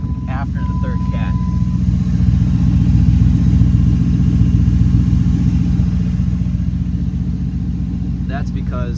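A custom one-ton 2001 Jeep Grand Cherokee WJ with a 4.7-liter V8 and exhaust cut after the third catalytic converter idles with a deep, throaty, steady rumble, swelling slightly mid-clip while someone talks over it.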